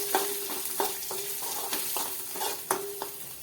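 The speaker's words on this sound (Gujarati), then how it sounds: "હવે તેમાં આપણે આદુ અને મરચાંની પેસ્ટ નાખી દઈએ અને સારી રીતે મિક્સ કરી દઈએ." Ginger-chilli paste sizzles in hot oil during a tempering with curry leaves, while a spoon scrapes and stirs it in several sharp, rhythmic strokes against the pan over a steady frying hiss.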